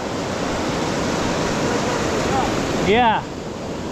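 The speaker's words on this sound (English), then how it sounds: "As those waves roll over" Ocean surf rolling onto a California beach where people fish for barred surfperch, a steady close wash of waves. Someone speaks briefly near the end.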